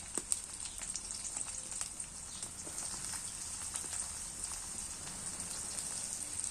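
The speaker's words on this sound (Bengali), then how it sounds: "তেলটা গরম হয়ে গেছে, তেলের মধ্যে পেঁয়াজগুলো তুলে দিচ্ছি" Onions sizzle and crackle steadily in hot oil in a pan, a quiet, continuous hiss with scattered pops, no talking.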